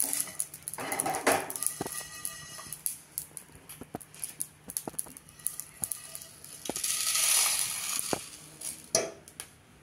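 Dry-roasted spices are scraped from a pan onto a plate, making faint, scattered clinks, light rattles and rustling patters at close range, with quiet gaps between them and no voices.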